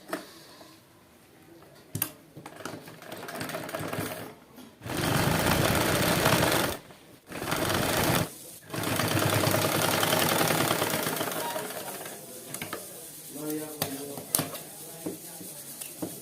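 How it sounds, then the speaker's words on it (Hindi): A sewing machine stitching lace onto an Afghani salwar runs in several sustained bursts of steady rapid whirring, separated by short pauses, with someone talking in the gaps. "यहाँ इसके ऊपर यहाँ सिलाई लगा देंगे"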